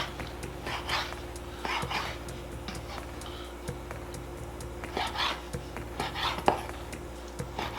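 Grilled chicken being cut up for fajitas on a board after a Weber kettle cook: a series of soft knife chops and taps at irregular intervals over a low steady hum, with some faint background movement.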